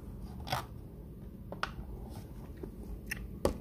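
Someone eats Mama tom yum instant noodles bought in Malaysia: soft, intermittent bites and chewing with a few crisp crunches and slurps, close but quiet, with no talking.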